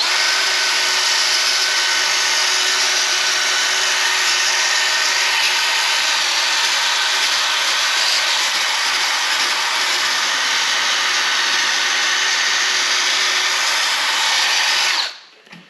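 A drill at low speed spins a sanding pad on a car headlight during a Mothers NuLens headlight restoration, a loud steady whirring grind that runs unbroken for about fifteen seconds before stopping.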